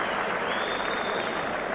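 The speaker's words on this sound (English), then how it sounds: "And this crowd thoroughly appreciative of what they're seeing." A boxing crowd applauds at a title fight, a dense, steady wash of clapping from many hands that stays even and fairly loud throughout.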